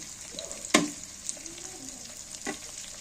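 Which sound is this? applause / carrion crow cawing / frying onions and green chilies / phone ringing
frying onions and green chilies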